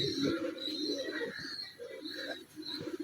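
Teddy pigeons, an adult male and female pair, give soft repeated coos close by, low throaty calls in short bursts with some higher chirpy sounds above them, and no talking.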